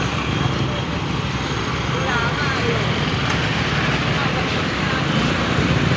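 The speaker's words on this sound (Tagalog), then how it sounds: "Ang haba na ng traffic." A highway traffic jam along the Rolando Andaya Highway in Ragay, Camarines Sur, with trucks and buses, comes through as a dense, continuous roar of idling and rumbling engines that fills the whole stretch at steady loudness.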